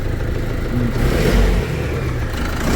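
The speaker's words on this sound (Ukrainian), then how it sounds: "А ну погазуй." A nearby engine runs loudly and revs up briefly, its rumble swelling then settling back to a steady idle.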